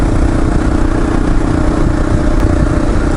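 Steady, loud drone of a KLR motorcycle engine while riding on a commute, a continuous mid-pitched running note with wind rush and light clatter throughout, no voices.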